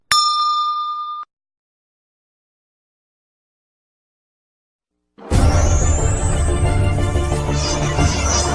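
A bright notification bell dings once, ringing out for about a second before silence, followed later by loud, dense game-trailer music for Gears of War 5.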